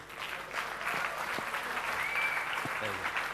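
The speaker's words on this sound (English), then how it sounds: "Come on, keep clapping, guys." Steady applause from an audience at a panel discussion in Mumbai, continuous clapping throughout with a faint murmur of voices underneath.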